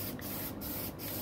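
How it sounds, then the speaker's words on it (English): Black spray paint hissing from an aerosol can onto rusty trailer studs in three quick close bursts, each a bright sustained hiss separated by brief pauses. "he's just going to go over all these with some black spray paint"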